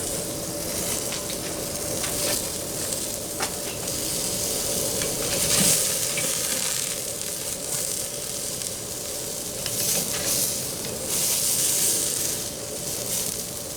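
Sous vide cheese-stuffed burgers sizzle in a pan just after flipping, a loud, continuous hiss and crackle with occasional sharper pops.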